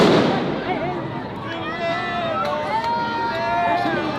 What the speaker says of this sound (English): those are just flashbangs